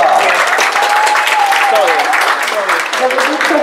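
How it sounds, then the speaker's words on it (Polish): A crowd at a show-jumping competition applauds a winning rider, loud sustained clapping that runs throughout while an announcer talks over it. "Wielkie brawa!"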